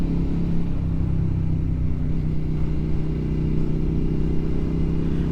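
A Suzuki SV motorcycle engine drones on Ortega Highway, a steady loud low rumble that holds evenly throughout with no speech.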